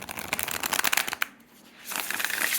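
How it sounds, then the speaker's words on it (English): A standard oracle-size deck of matte cardstock cards being shuffled up close, a dense riffle of crisp card flicks, a short pause, then another burst of shuffling. "go ahead and show you how it shuffles. Again, this is the matte cardstock and it shuffles great."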